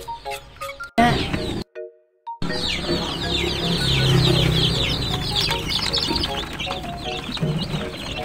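Healthy young chicks chirp in quick, high, overlapping peeps with occasional soft clucks, sounding close and continuous after a brief break in the sound near the start.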